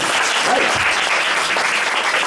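An audience breaks into loud, dense clapping, a steady burst of applause that fills the whole moment without voices on top.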